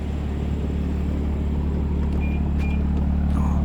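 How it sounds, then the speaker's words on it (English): A BMW M2's engine and exhaust hold a low, steady rumble from behind the car, loud and continuous with a faint rise in revs toward the end, with no talk. "Get a little rev time with Trish."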